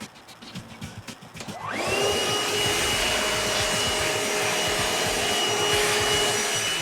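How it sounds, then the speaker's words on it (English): A vacuum cleaner switches on after a moment of quieter background and then runs steadily and loudly with a continuous whine, used for cleanup while scraping old caulking. "Vacuum's one of our most important tools."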